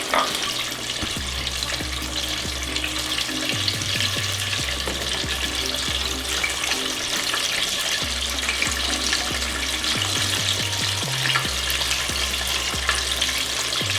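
Small chicken thighs frying in oil, a loud steady crackling sizzle that continues throughout with occasional stirring and clatter beneath it.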